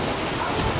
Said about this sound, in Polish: Nie wiem, czy mnie słyszycie, ale jest taka burza gradowa.